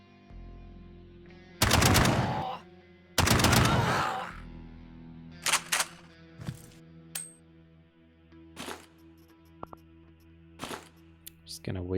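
Gunfire in the turn-based game Quasimorph rings out as two long loud automatic bursts, followed by several sharper single shots and clicks spaced apart over a low background hum.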